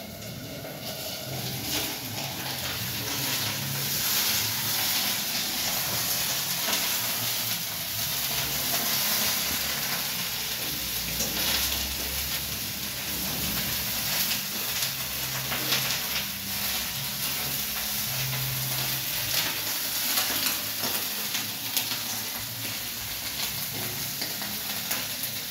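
A vegetable curry of cauliflower, beans and tomato sizzles and fries in a pan, with steady hissing and occasional stirring scrapes throughout, close by and without talking.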